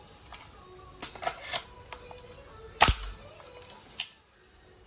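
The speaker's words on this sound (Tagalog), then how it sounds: "M4 RIS gas blowback. Powered by Green Gas. Made in Taiwan, WE brand." A WE brand M4 RIS gas blowback airsoft rifle, Taiwan-made and powered by green gas, fires a few sharp, separate snapping shots at irregular intervals, one notably louder near the middle, over a quiet background.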